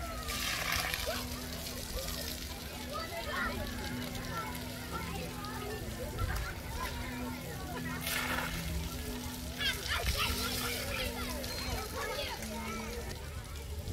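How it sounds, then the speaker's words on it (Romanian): In Tofino, children splash and play in water amid constant sloshing and distant chatter, a busy outdoor scene with voices scattered under the watery noise. "Câtă bucurie pentru copii ca să stea în apă, să se joace."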